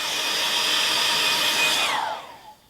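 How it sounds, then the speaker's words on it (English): A hair dryer drying watercolour paint blows with a steady high whir, then winds down in pitch as it switches off near the end. "Every now and then I use my hairdryer to get things dry."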